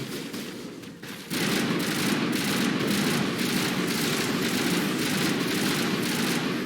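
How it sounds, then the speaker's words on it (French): Sustained gunfire rattles in from behind during a Mass Effect firefight, a dense continuous barrage after a brief quieter moment, loud and steady with no talking. "C'est qu'on vous tire par l'arrière ou quoi?"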